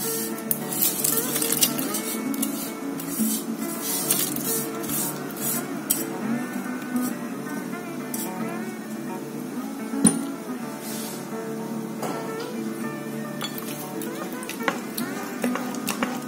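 A spoon stirs a sizzling tempering into millet pongal (bajra khichdi) in an Instant Pot, with steady scraping and clinking against the pot and a faint hiss throughout, no talking.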